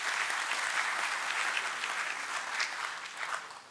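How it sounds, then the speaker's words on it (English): Steady applause from a seminar audience, dense clapping that holds throughout at a moderate level and eases slightly toward the end. "Please give a big applause and welcome him."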